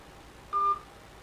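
One short telephone dialing tone, a single clean beep rising out of quiet background hiss.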